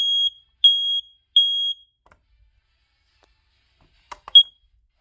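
A Kita I-46 18AC smoke alarm under test gives three loud, shrill, evenly spaced beeps. Quiet follows, then a couple of faint clicks and a single short chirp at the end.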